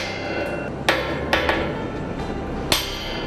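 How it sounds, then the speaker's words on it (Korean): Heavy hammer blows on tower crane steel ring out a few times, sharp clanging strikes spaced irregularly over a loud, steady industrial rumble during a crane climbing operation. "쾅쾅 두드려대는 망치 소리가 타워 크레인 상승 작업의 본격적인 시작을 알린다."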